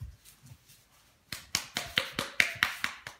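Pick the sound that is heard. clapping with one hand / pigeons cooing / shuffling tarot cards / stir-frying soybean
clapping with one hand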